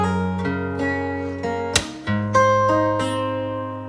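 Acoustic guitar playing a barred chord fingerpicked with the index finger across the strings, individual plucked notes ringing out one after another in a steady pattern, close and clear with no talk.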